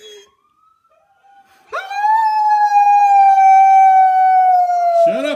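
A puppy lets out a long, loud, sustained howl after a faint whine, the tone holding steady for several seconds before breaking off.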